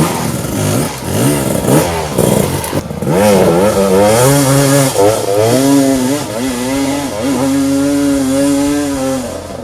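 A 2018 Gas Gas EC 300 two-stroke dirt bike is ridden hard nearby, its high, buzzy engine revving up and down in repeated sweeps as the rider shifts and accelerates.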